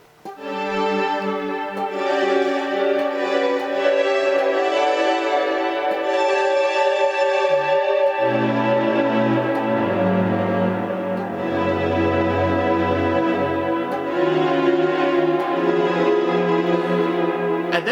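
A SynthAxe plays the opening section of a piece, sustained, smooth legato chords and lines shifting through rich voicings with a deep bass movement, loud and uninterrupted.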